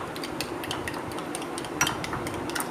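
Utensils clink and scrape steadily against a bowl as sweet bread ingredients, including milk, are stirred and mixed by hand, with one sharper knock near the end.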